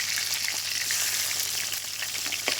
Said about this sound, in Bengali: একদম ধীরে ধীরে জাল দিয়ে মাছটা ভেজে নিচ্ছি